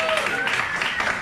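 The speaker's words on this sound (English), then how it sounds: "Clap it up for consent." A comedy club audience breaks into brief, dense clapping and cheers during a stand-up set, the applause filling the room at close range with a few voices mixed in.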